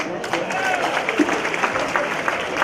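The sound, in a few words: gala audience applauding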